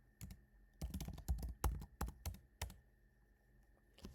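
A computer keyboard is typed on in short bursts of close, crisp key clicks with brief pauses, quiet, no talk.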